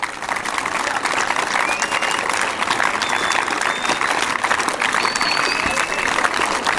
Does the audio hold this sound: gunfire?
no